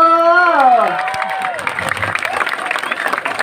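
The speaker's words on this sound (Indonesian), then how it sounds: "tepuk tangannya dong buat penabur" An audience applauds a performer at a liku show at Pura Dalem Tarukan temple in Pejeng, Gianyar, Bali; a voice speaks first, then a loud, crackling burst of clapping builds and continues to the end.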